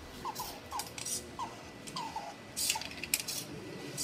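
Small candies dropping one by one into a blue container inside an automated color-sorting machine, giving a series of light, irregular plastic clicks and patters close by with faint mechanical noise between them.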